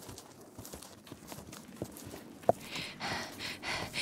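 A horse led by the bridle, its hooves clip-clopping in a steady, moderately faint rhythm with one sharper knock midway and no talking.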